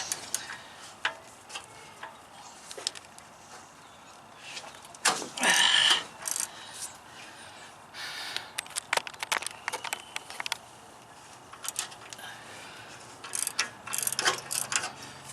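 Socket wrench ratcheting on the upstream O2 sensor of a 2008-2012 Chevy Malibu 2.4, a series of close clicking ratchet strokes with a louder burst partway through, over faint background noise and no talking.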